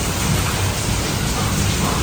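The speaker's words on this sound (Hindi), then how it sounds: "बहुत तेज बारिश है" Heavy rain pours steadily, a dense, loud hiss filling the whole clip with no voices.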